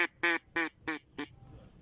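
Five quick, nasal duck-like quacks in an even rhythm, each short and bright, fading slightly by the last; a call imitating a duck's greeting.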